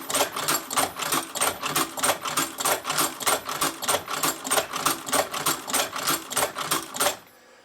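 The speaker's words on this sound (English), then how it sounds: "and then you can just continue sewing" An Outlaw hand-crank leather sewing machine stitching a leather knife sheath, a steady rhythmic series of about twenty close mechanical clacks at an even pace, ending abruptly, no voices.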